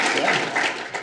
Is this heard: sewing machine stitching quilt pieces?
no